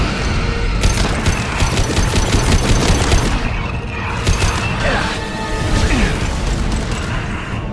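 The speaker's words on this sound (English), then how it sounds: "firing anti-ship batteries at collector vessel" Anti-ship batteries on a warship in Mass Effect 2 fire against a collector vessel, a rapid, dense barrage of heavy bursts and crashes that swells and fades over several seconds, loud and close.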